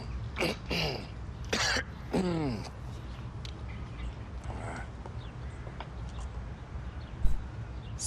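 A person coughs and clears their throat in a few sharp, close bursts over the first couple of seconds, followed by quiet room background.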